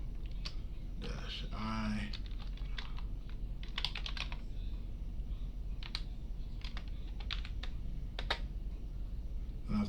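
Someone types on a computer keyboard while entering an admin password in a Fedora terminal, producing close, irregular bursts of key clicks with brief pauses, and a voice speaks faintly in the background.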